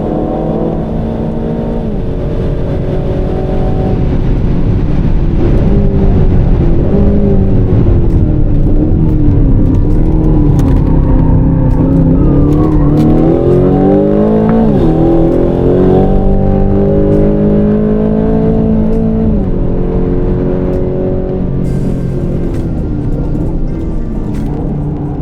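A 2025 Aston Martin Vantage lapping the Monteblanco circuit in Spain, its engine loud and close throughout, revs rising and falling through gear changes with a deep continuous roar.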